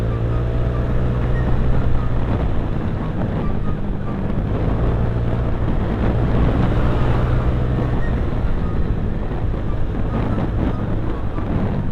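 A Yamaha Mio scooter engine with a modified CVT drones steadily throughout, with low rumbling and wind buffeting the microphone as it rides along.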